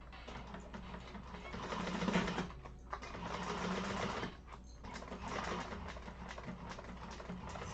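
A sewing machine stitches around the corners of a vinyl bag in close, rapid bursts of needle chatter, with short pauses between runs and a steady mechanical hum.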